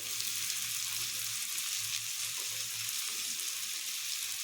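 Coriander, cumin, turmeric and chilli powders frying in a pan for a potato dish: an even, continuous hissing sizzle with a faint low rumble under it, steady throughout and with no talking.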